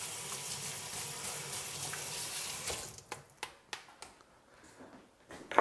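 Running tap water pours into a sink as hands are washed, with a continuous hiss for about three seconds. Scattered splashes and knocks follow as the flow stops, all faint and close.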